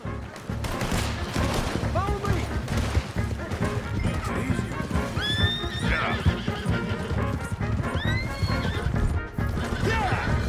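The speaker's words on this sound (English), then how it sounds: "Charles, Captain Monroe, mount up now." A horse in the Western video game Red Dead Redemption 2 whinnies repeatedly during a loud gunfight rescue, with hoofbeats, crashes and a busy game soundtrack around it and voices talking.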